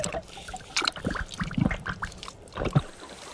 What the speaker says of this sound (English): Those gurgling noises, believe it or not, are being made by giant earthworms as they squelch along their water-filled